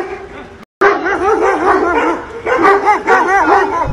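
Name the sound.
dogs barking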